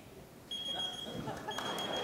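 A steady high electronic timer beep sounds for about half a second, pauses, then sounds again, over faint room noise at a live science talk in a theater.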